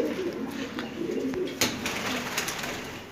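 A large-clawed pigeon cooing close by, a soft repeated throaty coo with faint rustling and handling noise around it.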